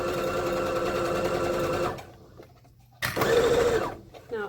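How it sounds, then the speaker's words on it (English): A sewing machine stitches a pleated woven skirt past the zipper, running in a steady close whir for a couple of seconds, pausing, then starting again in another short run. "I'm just gonna stitch, taking care not to hit my pins as I go"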